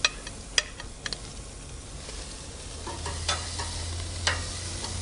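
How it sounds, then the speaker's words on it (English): Steaks sear on a preheated natural gas grill, a steady broadband sizzle running throughout with a few sharp clicks and pops, and a low hum joining partway through; no voices. "So we're going to get those steaks on."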